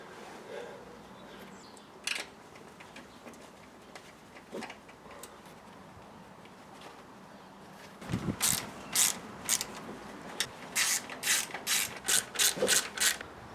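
Ratchet tightening oil pan bolts on a Toyota MR2, first a few scattered clicks and clanks, then rapid bursts of sharp close ratcheting clicks in quick repeated strokes.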